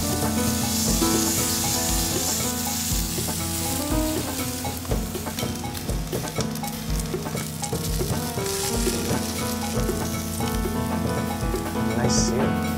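Meat sears in grapeseed oil in a hot pan, giving a loud, continuous crackling sizzle with dense popping spatters up close and no talk over it.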